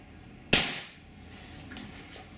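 A single sharp shot fires from a Tiberius T8.1 paintball marker during a velocity test, a sudden loud crack with a short fading tail, followed by quiet room noise.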